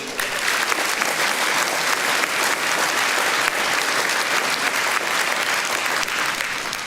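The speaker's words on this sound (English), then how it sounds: "Can I get a round of applause?" A large crowd at a political rally in Wiltshire claps loudly and steadily, a dense, unbroken wash of applause that holds at full strength for the whole stretch without a pause.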